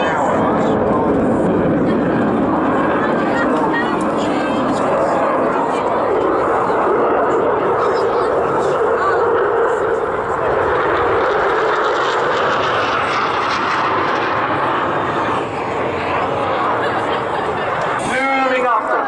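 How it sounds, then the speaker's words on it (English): A Royal Air Force jet in full reheat making a fast low flypast at around 700 mph, a loud sustained roaring blast throughout with a voice speaking over it and some crowd laughter. "he's going to punch the aircraft into full reheat and come past us at 700 miles an hour"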